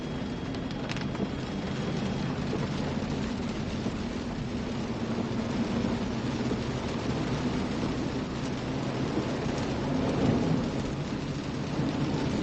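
Thunderstorm encountered while storm chasing, a continuous wash of rain and low rumbling thunder with a steady constant level, with a faint swell near the end and no speech.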